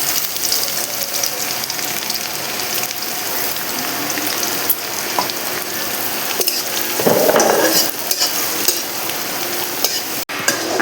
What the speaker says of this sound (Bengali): যে হালকা ভাজা হয়ে গেল, লাল লাল হয়ে গেলো, এবার আমি রসুনটা দিয়ে দেবো।